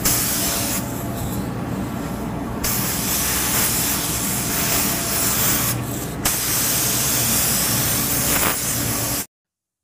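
Spray gun hissing steadily as base coat paint goes onto a car, a loud continuous close spray broken by two short pauses, then cutting off abruptly near the end.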